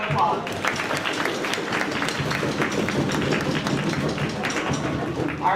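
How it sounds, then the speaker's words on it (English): Audience applause at a school spring concert: dense, steady clapping from a crowd filling the hall, continuous and loud throughout. "let's give your parents and families a big round of applause"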